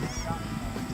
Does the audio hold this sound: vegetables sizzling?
no